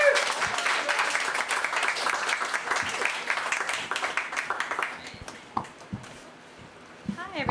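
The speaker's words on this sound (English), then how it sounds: "All right, everyone, round of applause, please." An audience at a young adult fiction panel and book launch party gives a round of applause, dense steady clapping for about five seconds that thins out into a few scattered claps and room noise.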